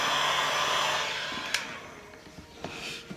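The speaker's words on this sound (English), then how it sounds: "get yourself a heat gun and you put it on low heat and you just go over the area to warm it up" Heat gun on its low setting warming clay, giving a steady airy blowing whir that fades toward the end, with a few small knocks as it is handled.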